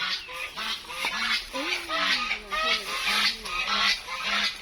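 Geese honking repeatedly and loudly at close range, a flock's overlapping calls and squawks running throughout over a rough background.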